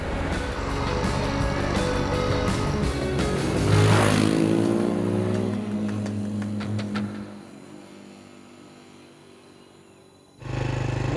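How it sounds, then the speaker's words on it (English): Motorbike ridden on an open road in Asia, a loud engine drone that swells and peaks close by, then eases off and fades before a sudden burst of rumble returns at the end. "Neil's got me on a sodding motorbike."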